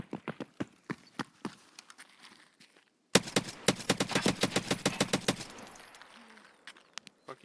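Rapid gunfire in the shooter game Escape from Tarkov, scattered single shots followed by a dense sustained burst of close, loud automatic fire that tapers off.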